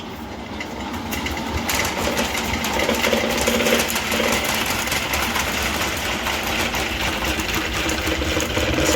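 A honey extractor spins honey frames with a steady mechanical whir and rattle that starts after a moment and stays loud and even throughout.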